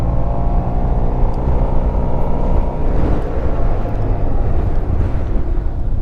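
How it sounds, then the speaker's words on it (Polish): A car approaches from behind on a road during a spring motorcycle ride on a Yamaha T-Max 560 scooter, its steady broadband rumble blending with heavy wind buffeting, loud and continuous with no voices. "Samochód jedzie z tyłu, uważaj."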